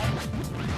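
A single Super Smash Bros up smash attack lands as a quick whooshing crash, loud and close over steady game noise, with no talk.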